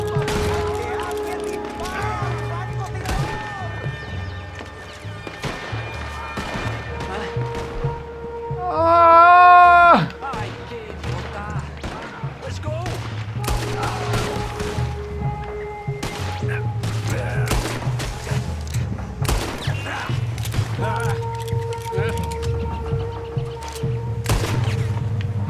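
Dense bursts of gunfire from Red Dead Redemption 2 during the Saint Denis job, with rapid sharp cracks scattered throughout over rumbling background sound and occasional shouted talk.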